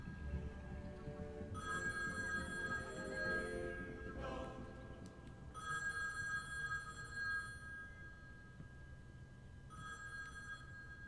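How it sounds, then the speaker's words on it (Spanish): A telephone rings in the cat adventure video game Copycat, three separate bursts of bright electronic trilling with short gaps between them, set against a quiet background. "It's just the telephone"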